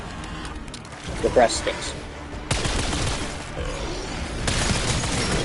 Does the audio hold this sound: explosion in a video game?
yes